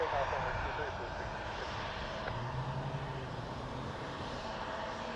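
An airliner takes off at Toronto Pearson Airport on runway 23, a steady broadband jet roar holding loud throughout with a faint tonal hum, while radio voices talk over it.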